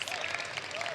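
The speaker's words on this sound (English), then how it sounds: "And an applause once more for Taipei." Brief burst of crowd applause at an IEM Singapore esports quarterfinal, dense clapping filling the moment with a bright, steady roar.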